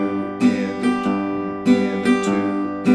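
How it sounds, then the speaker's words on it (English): Guitar plays a boom chicka strum: bass notes alternate with strums, and light upstrokes catch the treble strings, in an even, repeating rhythm. It is close and clear, with no voice. "Now you can embellish that with just a slight upstroke where you're hitting 1 or 2"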